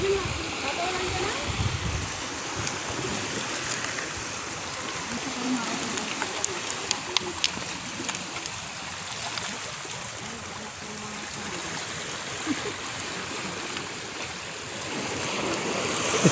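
Strong sea waves surge and splash continuously at close range, a steady broadband rush of surf with intermittent louder crashes, heard alone without talk.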